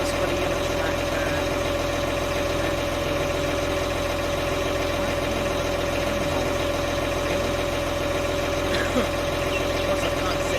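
A yellow tractor idles in Farming Simulator 19, a steady mid-pitched engine drone with a constant tonal hum that runs unbroken and even for the whole stretch.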